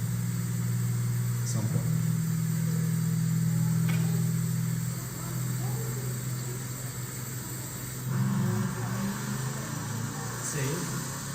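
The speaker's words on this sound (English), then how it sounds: "So this is a supercharged Camaro that we did, an SS Camaro." A supercharged Chevrolet Camaro SS of about 719 rear-wheel horsepower runs with a steady low engine drone and brief rises in revs, while someone talks over it.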